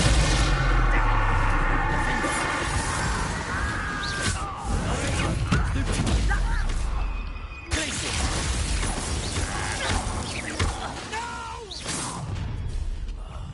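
Bombarda blasting-spell explosions in Hogwarts Legacy at a goblin camp, loud dense booms and crackling debris filling the whole stretch, with rattling mechanical effects and a voice briefly heard among them.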